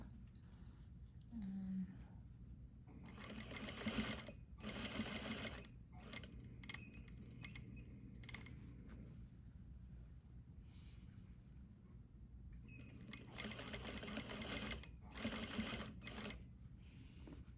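A sewing machine stitches a garment yoke in repeated bursts of rapid mechanical whirring, with short pauses and a few clicks between runs. The recording is quiet and close.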